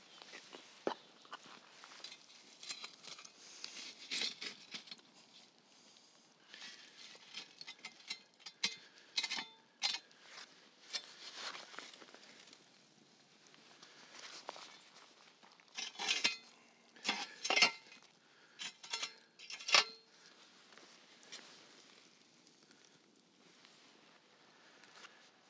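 A cast-iron Dutch oven is set back over a campfire for Texas chili and hot coals are placed on its lid: sparse metallic clanks, scrapes and ticks, close and quiet, with gaps of near silence between.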